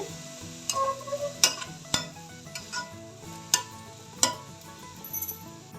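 Grated carrot sautés in ghee in a pan for carrot halwa, with a spoon tapping and scraping against the metal in irregular sharp clicks over a soft, low sizzle. The sound is close and fairly quiet, with no talking.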